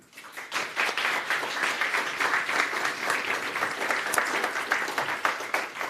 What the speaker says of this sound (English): Round of applause for Natalia, Siddharth, Lise and Sebastian.